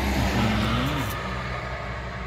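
Six-wheel trailer truck on a rainy road, a steady engine drone with a rising then falling tone as it passes, under constant rain and road hiss, fairly close.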